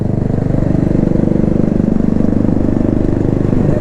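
A Honda CBR motorcycle engine running at a group meetup in Kolkata, a loud, close, steady rapid-pulsing drone that holds even throughout.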